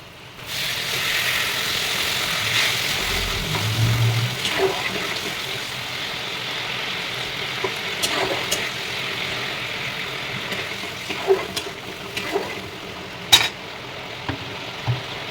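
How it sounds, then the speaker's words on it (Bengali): Water poured into a pan of pointed gourd (potol) frying in oil, a steady broad rushing pour lasting many seconds, with faint clicks and clatter near the end. "এবার জলটা দিয়ে দেবো।"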